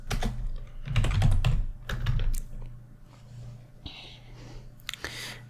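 Rapid, close keyboard typing while coding in Java, with dense clusters of clicks in quick bursts, then sparser, lighter keystrokes and a few sharp taps toward the end; soft whispered voice faintly underneath.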